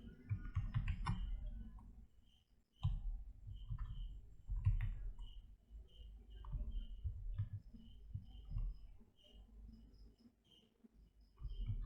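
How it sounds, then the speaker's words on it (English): Someone types a command on a computer keyboard, quiet irregular key clicks in quick clusters with brief pauses, close and alone. "I will type the command first,"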